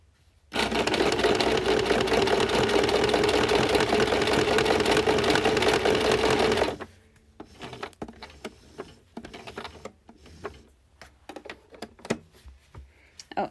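A sewing machine stitching fabric for a costume belt, a fast steady mechanical patter running loud for several seconds before stopping, followed by quieter handling noises and a person speaking.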